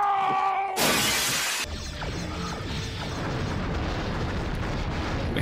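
Starship weapons fire and torpedo explosions from a Star Trek starship battle game, with a USS Stargazer fighting a Klingon Bird of Prey: one sharp, loud shattering burst followed by a rumbling, crackling blast that fades into a long noisy tail.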